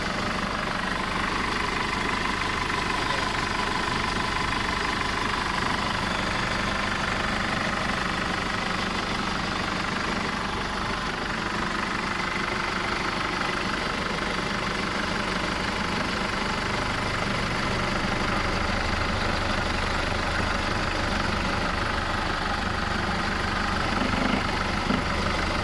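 A Chevrolet Trailblazer 2.0 automatic idles with a constant, even engine drone and low rumble that holds steady for the whole stretch, with no speech over it.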